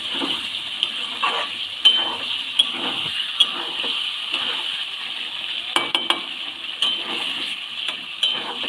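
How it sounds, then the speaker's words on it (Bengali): Boiled small new potatoes being sautéed with spices and tomato in a pan for a vegetarian dum aloo, a steady close sizzle under repeated scraping and clinking stirs of a utensil against the pan. "এবার আলুগুলোকেও মশলার সাথে ভালো করে কষিয়ে নিচ্ছি"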